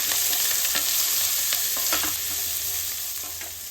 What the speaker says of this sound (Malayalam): ക്യാരറ്റ്, ബീൻസ്, മഞ്ഞൾപ്പൊടി ഇടാം. ഇതൊന്ന് വേണം വരെ ഇളക്കാം.